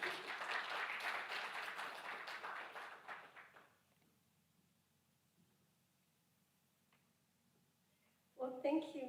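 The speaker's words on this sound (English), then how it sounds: "Let's give her a round of applause." Audience applause at a civic event honoring a vice mayor, a dense burst of many hands clapping that fades out over about four seconds, followed by quiet room tone and then a voice starting to speak.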